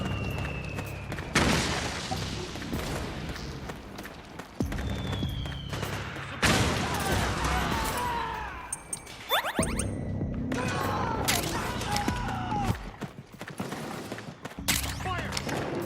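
Sustained gunfire in Metal Gear Solid 4, dense bursts of automatic rifle fire and heavy booms in a chaotic battle, with soldiers shouting throughout and brief gaps between volleys.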